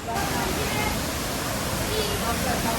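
A stream in Konkan, India rushes steadily, a dense, unbroken wash of flowing water close by that stays at the same level throughout.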